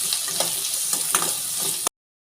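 Garlic and ginger sauté in a pan, a close, steady sizzle broken by a few soft stirring scrapes, then it cuts off abruptly.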